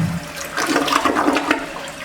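An American Standard Cadet toilet flushes when its lever is pushed, a steady rushing swirl of water that fills the bowl loudly and close by for about two seconds, with no one talking.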